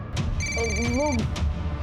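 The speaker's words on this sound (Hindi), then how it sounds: "कब से फोन बज रहा है" A mobile phone rings loudly with a bright repeating electronic tone, heard close and steady for about a second between short spoken exchanges.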